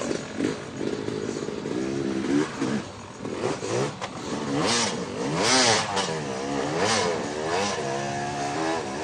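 A motorcycle engine revs hard during a King of the Motos hill climb, its pitch repeatedly rising and falling in loud, close bursts with rough clatter.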